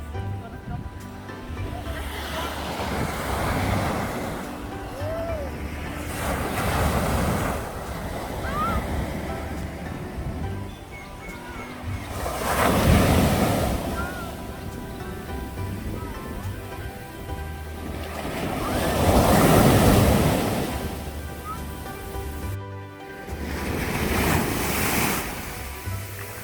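High ocean waves break on a shallow Puerto Vallarta beach, surging and crashing in repeated swells every several seconds, loud and near, with wind noise between the breakers.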